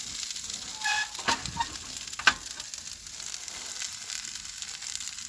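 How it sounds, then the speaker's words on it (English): Food frying in a pan on a stove in the front seat of a Jeep, a steady close sizzle with a few brief pops and crackles, and no talking. "Cooking in the front seat of the Jeep with Canine Mama."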